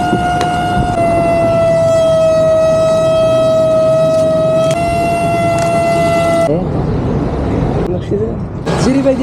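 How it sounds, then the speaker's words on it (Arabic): A car horn blares loud and long in a busy Marrakech street near Jemaa el-Fnaa square, one sustained honk lasting several seconds before cutting off, with voices and street bustle underneath. "لا شكون يزمر هذا؟"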